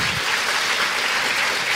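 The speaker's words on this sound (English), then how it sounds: "She certainly deserves this warm applause and a lot more." A seated audience at a talk on feminist activism in the international garment industry gives steady, warm applause to a guest speaker, a dense even patter of many hands clapping, with no voices.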